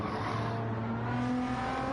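A GT1 race car engine droning steadily at the Brazil circuit in a racing game, a sustained tonal hum heard from a distance, fairly quiet and even throughout.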